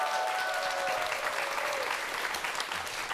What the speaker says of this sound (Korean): 오늘의 강연자 두 분을 박수로 환영해 주십시오